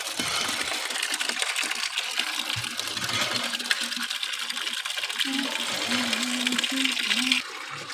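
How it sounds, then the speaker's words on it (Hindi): Water splashes and gushes steadily as potted plants on a rooftop are watered from a container, a continuous broadband pouring sound with a faint voice murmuring underneath. "तो हम अब सारा प्लांट में पानी दे देते हैं"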